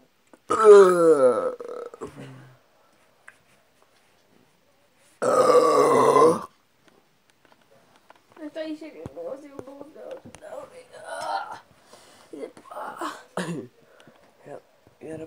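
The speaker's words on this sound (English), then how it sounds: "that was a weak burp" Loud, drawn-out burps during a no-burp challenge, one near the start and another a few seconds later, followed by bursts of people talking and reacting close to the microphone.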